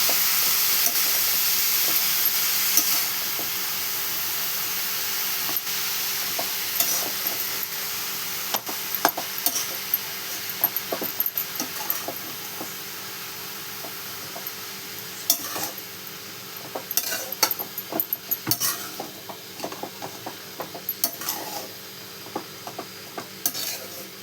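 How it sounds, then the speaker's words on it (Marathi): Radish stir-fry (mula bhaji) being stirred in a pan with a spoon, steady sizzling and hissing throughout with repeated scraping clicks of the spoon against the metal, growing busier toward the end, no talking. "आता मिक्स करून घेऊया आपण सगळा मुळा"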